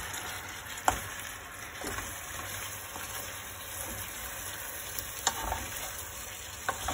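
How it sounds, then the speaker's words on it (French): Partly cooked potatoes sizzle steadily in a frying pan while being stirred gently, with occasional soft scrapes and knocks of the utensil, heard up close with no talk. "je mets mes pommes de terre qui sont pas tout à fait cuites. Et je vais les mélanger tranquillement."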